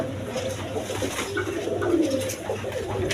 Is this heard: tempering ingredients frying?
no